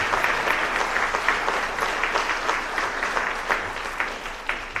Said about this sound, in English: One final round of applause for class of 2022 inductee Shelby Herman Madden.